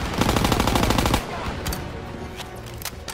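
Machine gun fire in Call of Duty WW2, a loud rapid burst of automatic shots for about a second, then scattered distant gunshots and battle noise.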